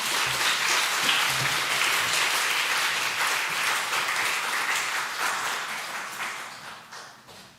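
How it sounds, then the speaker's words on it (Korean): A church congregation gives sustained applause to welcome an elder, many hands clapping steadily and loudly before slowly fading out. "장로님 나오실 때 우리 박수로 환영해 주시기 바랍니다"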